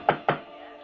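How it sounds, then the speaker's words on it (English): Two sharp knocks on a front door, close and distinct, about a fifth of a second apart, with a quiet room tone after them. "Knock for yes."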